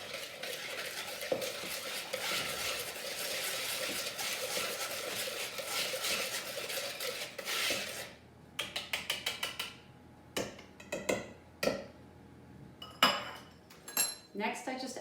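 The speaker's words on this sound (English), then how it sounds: "I'll add 2 teaspoons of vanilla. And just whisk it all together." Wet cake batter with vanilla being whisked in a bowl: first a continuous busy scraping and swishing, then a run of sharp, rhythmic clinks of the whisk against the bowl, close and fairly loud.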